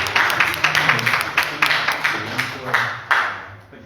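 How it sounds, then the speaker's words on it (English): Audience applause at a live author interview event, steady clapping from a crowd with repeated sharp bursts, fairly close and loud, continuing for several seconds without speech over it. "Do another round of applause."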